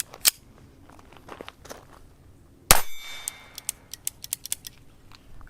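A single sharp crack from an unsuppressed Walther PPK/s .22LR pistol firing Federal American Eagle 40-grain high-velocity rounds rings out loud and close. Faint clicks and light metallic handling noises come before it, and small clinks follow.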